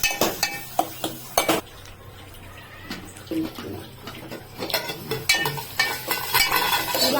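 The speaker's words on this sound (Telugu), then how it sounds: "అక్కడికి మూత పెడతాను." Sharp metallic clanks and clatters of a lid set on a pot of tangy prawn and okra curry, several close knocks scattered through the clip, with a voice speaking between them.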